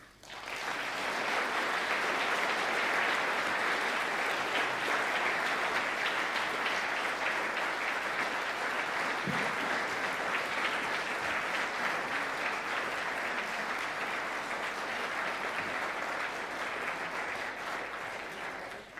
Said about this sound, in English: Ladies and gentlemen, you've shown your appreciation by your applause.